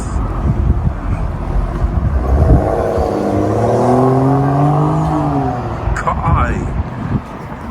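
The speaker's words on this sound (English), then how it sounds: "Now with all the new parts fitted, Joe's gonna take the car for a quick spin." A BMW M235i pulls away, its engine revving up through a rising then falling drone with wind noise, and a voice speaks briefly over it.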